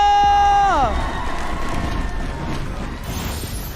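An arena crowd cheers and applauds at an MPL Indonesia Season 11 Mobile Legends esports match. A bright, falling musical tone opens, then dense, continuous crowd noise takes over, with a voice heard through it.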